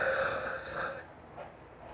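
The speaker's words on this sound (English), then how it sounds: "Is someone belching?" A belch-like sound rises in a quiet house, a drawn-out eructation in the first second followed by a softer, shorter one, fairly close and with no talking.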